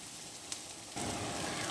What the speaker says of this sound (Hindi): तकरीबन ये हाफ डन हो गए हैं क्योंकि प्याज तो जल्दी पक जाते हैं।